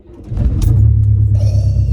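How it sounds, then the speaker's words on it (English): A Honda Accord Aerodeck VTi-S engine with 246,000 miles rumbles loudly and steadily up close, its low throaty drone rising as it revs and holding strong throughout. "we're in a proper car now, so listen to that. What an"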